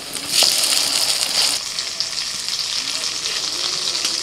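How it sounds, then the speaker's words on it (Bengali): Banana flower and prawn fritters fry in hot oil, a loud bright sizzle that flares as they are turned over with a knock, then settles to a softer steady crackle. "বড়াগুলো এক পিঠ ভাজা হয়ে গেলে অপর পিঠটা উল্টে দিচ্ছি।"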